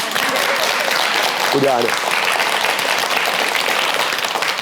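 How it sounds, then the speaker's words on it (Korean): Steady, loud applause from a crowd, continuous clapping with a voice briefly speaking over it. "우리 각시 한번 박수 한번 칩시다."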